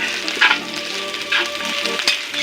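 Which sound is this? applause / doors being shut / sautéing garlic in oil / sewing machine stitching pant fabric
sautéing garlic in oil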